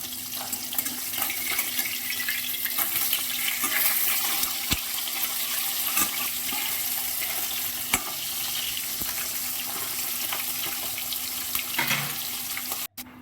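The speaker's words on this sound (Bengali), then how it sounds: "তেল গরম হয়ে গেছে, এবার মাছগুলো আমি আস্তে আস্তে সব ভেজে নেব।" Koi fish frying in hot oil, a loud, steady, dense sizzle that carries on for the whole stretch, broken by a few faint clicks and a sharp knock just before the end, with no voices.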